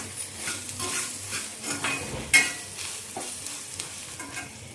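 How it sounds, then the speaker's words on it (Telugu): Green chillies fry in a pan with cumin and a spoon of salt, giving a soft sizzle under brisk spoon stirring and a sharp clink against the pan, close and brief. "ఇప్పుడు పచ్చిమిర్చి వేగేటప్పుడే ఒక స్పూన్ జీలకర్ర కూడా వేసుకొని వేపుకోవాలండి"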